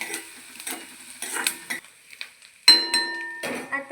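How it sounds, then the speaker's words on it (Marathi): Fried onion with a pinch of asafoetida being stirred in a pan, giving clustered metallic scrapes and clinks of a spoon against the pan, close and fairly loud, in bursts with short gaps and no talking. "त्यामध्ये थोडंसं हिंग घालूया आणि हलवून घेऊया"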